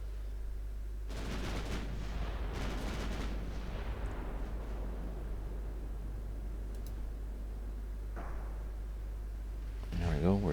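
Heavy cruiser main guns fire in the naval game Ultimate Admiral Dreadnoughts, several deep booming salvos rumbling early on and a sharper report near the end, under a voice.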